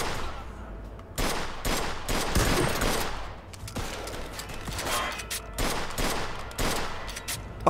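Rapid bursts of gunfire and fusillades in the Mafia 2 video game, loud and dense, with repeated volleys across the whole stretch.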